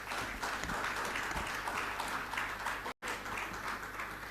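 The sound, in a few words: audience applause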